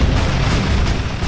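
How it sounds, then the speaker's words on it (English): Explosions boom during a desert tank battle, a loud, dense low rumble filling the short stretch with no speech. "You see the explosions going off."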